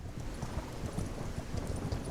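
Horse hooves clip-clop steadily and continuously at close range as a rider travels through the open-world RPG Ertugrul of Ulukayin, with no talking over them.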